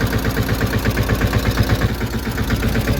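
A tractor engine chugs steadily in a farm field, a loud close rhythmic diesel throb with regular knocking pulses running throughout, no voices.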